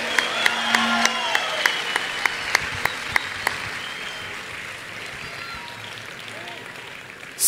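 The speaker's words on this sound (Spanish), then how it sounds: "Un aplauso fuerte." Audience applause fills a church gathering, steady crowd clapping with a few distinct sharp claps standing out at the start, gradually thinning and softening over several seconds.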